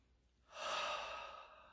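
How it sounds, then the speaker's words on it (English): A single deep, soft inhaled breath taken near the start of a class, rising after a short quiet moment and tapering off. "Let's take a good breath."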